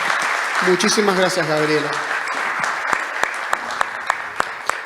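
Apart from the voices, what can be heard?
audience applause at conference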